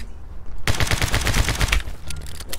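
Rapid bursts of video game gunfire from My Friend Pedro, a loud dense volley of shots lasting over a second before tapering off, with a few scattered shots after.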